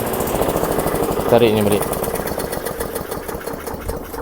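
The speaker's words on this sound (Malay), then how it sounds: "Ni jenis Briggs & Stratton punya enjin, 125cc." A Briggs & Stratton 125cc lawn mower engine runs with a steady, close mechanical chug, briefly rising in pitch, while someone speaks over it.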